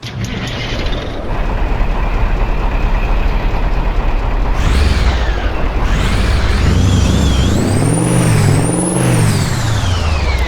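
A Peterbilt 351 heavy truck engine in American Truck Simulator cranks and rumbles to life, settling into a loud, deep idle with rising and falling whines over constant background noise.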